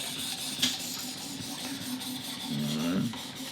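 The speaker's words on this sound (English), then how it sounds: "Now we're up to the ceramic hone. From this point forward, we're polishing this blade to get it as sharp as possible." A Glock knife blade is drawn across a Work Sharp Professional Precision Adjust Elite ceramic hone, making a steady rasping rub with a sharper scrape near the start and a stronger stroke toward the end.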